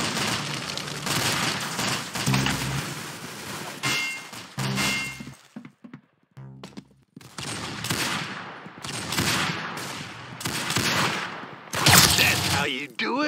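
Gunfire in the SWAT shooter game Anomic crackles in repeated loud bursts and rapid volleys, broken by a couple of short lulls, with voices talking over parts of the fighting.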